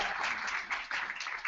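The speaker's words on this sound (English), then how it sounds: "A round of applause for Abby." Applause from an event audience honoring a staff member at a service celebration, a dense steady patter of clapping throughout the short stretch, moderately loud.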